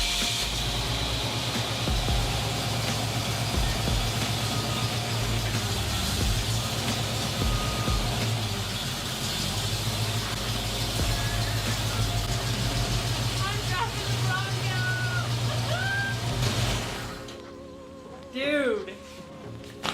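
An early Ford Bronco engine idles with a steady low rumble as the old truck is pulled forward, then the engine noise drops away near the end. Voices can be heard around it.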